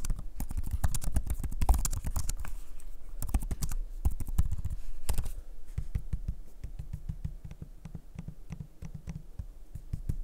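Fingers type on the aluminum keyboard deck of a Microsoft Surface Laptop Go, giving brisk, close key clicks in uneven bursts that continue throughout.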